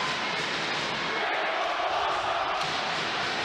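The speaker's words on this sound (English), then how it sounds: "As we expected, the crowd got fired up after that one." A high school boys hockey crowd, heavy with the student section, roars in a sustained, dense wash of cheering and shouting after a goal, with a voice talking over it.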